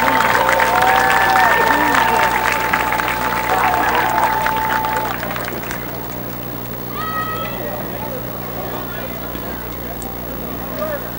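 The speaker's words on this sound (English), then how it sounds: "Let's give our senior football players, class of 2018, a big round of applause." Crowd at a high school football game applauds senior players, steady clapping and cheers in the stands for several seconds before fading to quieter crowd murmur with a few brief shouts.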